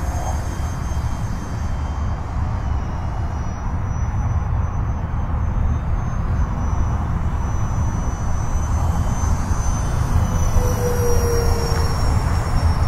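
An E-flite Habu 50mm EDF RC jet on its maiden flight, a loud continuous ducted-fan whoosh and whine that holds steady for thirteen seconds with slight rises in pitch as it passes, with no talking.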